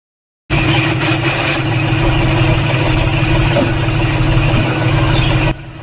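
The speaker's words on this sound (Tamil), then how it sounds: "இப்போ நம்ம பார்க்குற டிராக்டர் இதுதாங்க கலக்கட்டை போடுற டிராக்டர்" A heavy tractor engine runs steadily nearby on a peanut farm, with a constant low rumble and drone, starting abruptly and easing slightly at the end.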